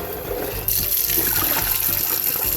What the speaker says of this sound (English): So I'm going to rinse this jar out so I can get it so I can put in the recycling bin.